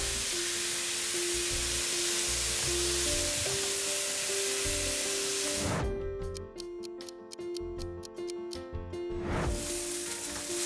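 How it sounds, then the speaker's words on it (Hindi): Onions and masala frying in a pan with a pinch of salt, a steady close sizzle that drops off partway, followed by rapid ticking clicks, and no talking. "ये मसाले को मैंने 5 से 7 मिनट तक फुल पे भूना है और अब मैं गैस की फ्लेम को हल्का करके इसको भूनूंगी"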